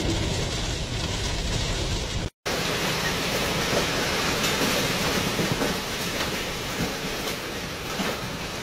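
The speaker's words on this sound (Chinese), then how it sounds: "暴雨混着大风，现在车身已经有一些晃了" Heavy rain and strong wind roar in Nanchang as a storm batters a vehicle that is already rocking. The broadband rushing noise is loud and constant, with only a brief dropout partway through and no talk.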